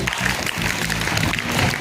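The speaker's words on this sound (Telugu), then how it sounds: "గట్టిగా క్లాప్స్ కొట్టండి." Audience clapping at a school parents' meeting, a steady dense round of applause from a crowd that carries evenly through the moment without a break.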